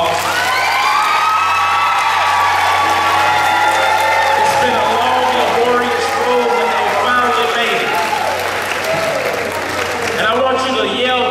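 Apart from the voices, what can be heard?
audience applauding graduation candidates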